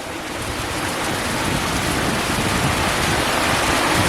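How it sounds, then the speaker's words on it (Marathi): Heavy monsoon rain pours steadily in the Konkan countryside, a dense, loud, continuous hiss with gusting wind swelling slightly, with no voices. "रात्रभर असाच पाऊस पडतो"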